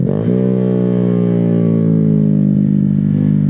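A Honda Grom motorcycle engine revs loud and close, its tone climbing quickly and then holding a steady high drone with slight rattle, no talking over it.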